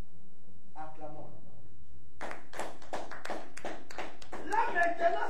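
A church congregation breaks into applause, a burst of loud hand claps that runs for several seconds after a preacher's voice ends.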